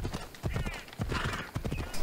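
Horse hooves clip-clopping in Assassin's Creed Odyssey, a quick loud rhythmic trot close by with a brief whinny-like tone mixed in.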